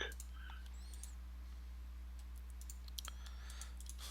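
A computer mouse gives a scatter of faint, quick clicks, a few early and a denser cluster toward the end, over a low steady hum, with no talking.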